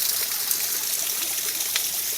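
Steady rushing water from a waterfall at the Murat Dhwaj ashram, a close, continuous hiss and splash with no pauses and no voices.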